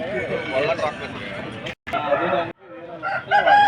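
Rooster crowing amid the bustle of the Vijayawada rooster market, loud and close, with people talking over and around it and brief gaps in the noise.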